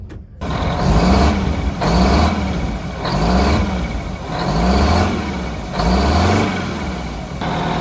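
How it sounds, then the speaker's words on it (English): A large bus engine revs repeatedly, rising and falling in a steady rhythm about every second, loud and close, with a continuous low rumble underneath. "I can hear it revving."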